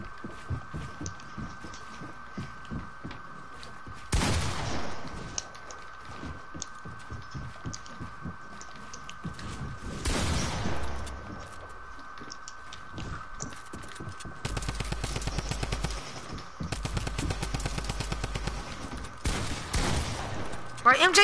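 Gunfire in a video game rattles out in repeated bursts of rapid shots, some loud and close, over a steady electronic hum, with players talking in the background between volleys.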